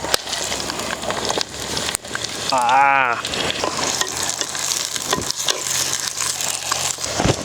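Onions fry in oil in a pan for a country chicken curry, a close steady sizzle with stirring knocks, while voices talk over it.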